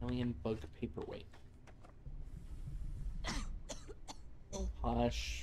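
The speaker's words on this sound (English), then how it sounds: "I know you have a cough." A character in the video game Starfield coughs and clears their throat in several harsh, close bursts, with quieter pauses in between.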